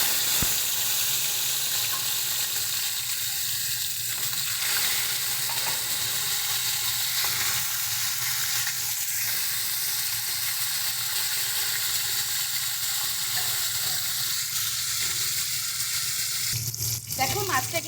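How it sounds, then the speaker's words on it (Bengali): Pieces of catla fish frying in hot oil for doi katla, giving a steady, continuous sizzle up close that runs throughout, with a brief louder crackle near the end. "তো চলো এবার এক এক করে মাছগুলো ভেজে নিই।"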